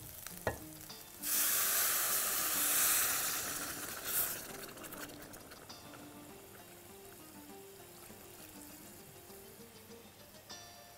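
Broth is poured onto rice and potatoes cooking in a pot, setting off a loud rushing sizzle that lasts about three seconds before it fades to a low bubbling simmer, with faint clinks of utensils.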